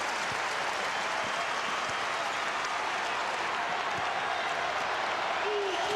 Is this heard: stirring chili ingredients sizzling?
no